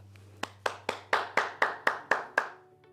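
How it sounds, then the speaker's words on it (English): A single pair of hands claps nine times at an even, unhurried pace in a quiet room at a children's law center gala, each clap crisp and near, over a faint low hum. "please join me wherever you're at in giving them a round of applause"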